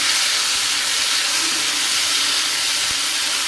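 Potato pasta frying in a pan for an oil-free snack, heard as a loud, unbroken hiss that stays steady from start to finish, with a faint thud near the end.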